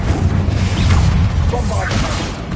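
Confringo fire spell blast in the Hogwarts Legacy video game during a fight with spiders, a loud crashing burst with whooshing swells over steady game noise, with no talk.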